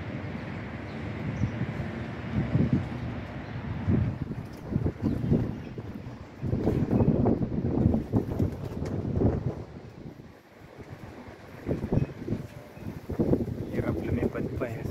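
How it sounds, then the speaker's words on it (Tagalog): Strong gusts at an outdoor pigeon loft during a training flight buffet the microphone in heavy, irregular bursts of low roaring rumble, rising and falling throughout, with a voice faintly underneath. "Hirap sila, malakas ang hangin yun."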